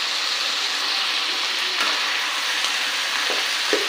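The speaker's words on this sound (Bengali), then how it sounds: "একটু আমরা চিকেনটাকে ফ্রাই করে নেবো" Chicken pieces frying in hot oil in a pan for a curry, a steady close sizzle and crackle with occasional stirring scrapes, no talking.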